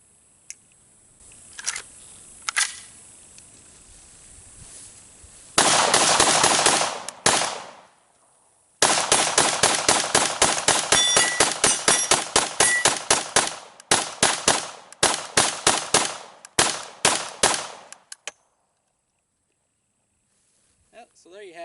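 PPS43c rifle fired in rapid bursts of a mag dump, sharp loud cracks in quick runs with brief pauses between strings, then silence after the magazine empties.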